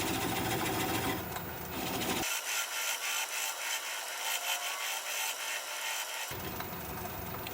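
Bowl gouge cutting a sassafras bowl on a wood lathe, a steady, loud rasping and scraping that runs without a break, with a brighter, hollower stretch in the middle before the fuller tone returns.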